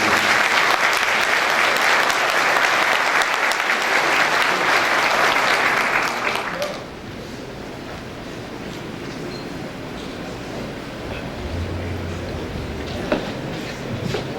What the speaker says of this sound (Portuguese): Peço uma salva de palmas para a Laura de Deus.